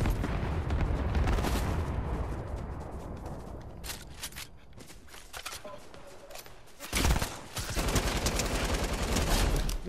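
Fortnite gunfire plays as loud bursts of rapid shots and blasts, with a quieter lull in the middle before heavy firing resumes.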